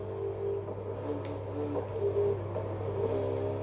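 A small block Chevy V8 revs in the racing game Need for Speed Heat, a steady mid-pitched engine drone that rises and falls slightly over a few seconds.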